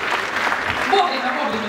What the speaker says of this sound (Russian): Под ваши аплодисменты, друзья.